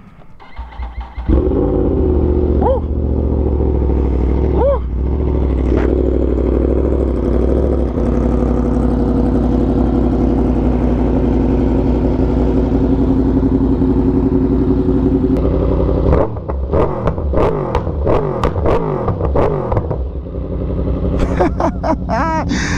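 A Yamaha R1M motorcycle engine runs loud and close, holding a steady idle before sharp revving bursts with crackling pops near the end.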